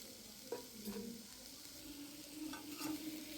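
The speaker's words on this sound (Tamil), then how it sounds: "நாலு வெங்காயத்தை அது கூட சேர்த்துக்கலாம் அதை நல்லா ஃப்ரை பண்ணிக்கலாம்" Sliced onions with a little salt frying in a pan and being stirred, a soft steady sizzle with a few scraping strokes of the spoon, fairly quiet and close, with no talking.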